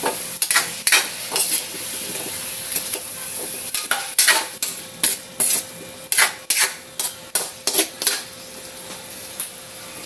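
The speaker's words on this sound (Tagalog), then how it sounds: "haluin natin." Squash cooks in a pan while being stirred, producing a background sizzle punctuated by loud, rhythmic scraping strokes of a utensil that quicken into a steady series toward the end, close up with no voices.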